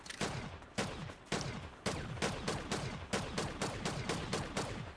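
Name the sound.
gunfire in the video game Fortnite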